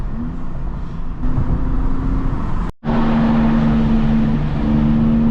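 BMW M2 with a catless exhaust cruising on a highway, its engine holding a loud steady drone with a tonal hum, cut briefly by a sudden drop to near silence before the drone resumes.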